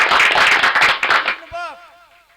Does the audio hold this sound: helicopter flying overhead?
no